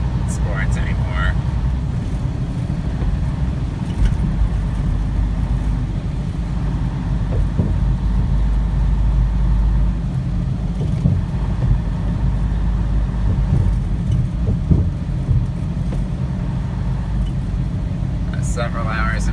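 Steady low road rumble and engine drone of a car driving on a highway through Arkansas, continuous and close throughout with no other clear sounds.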